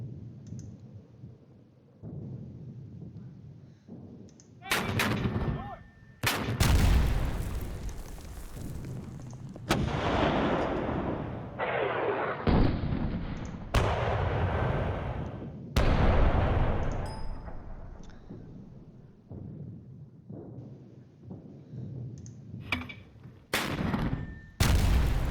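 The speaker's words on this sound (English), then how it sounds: "So, sound effects are so good. There's a mortar." Mortar blasts and gunfire sound effects from the Panzer Campaigns strategy war game come as a series of loud booms and sharp cracks. Each blast has rolling decay, and they are spaced irregularly across the stretch, with clicks between them.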